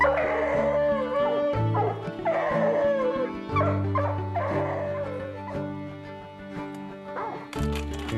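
Pack of hunting dogs baying and howling at a mountain lion treed in a snowy draw, several voices overlapping in loud, continuous, drawn-out bays with yips, close and sustained throughout.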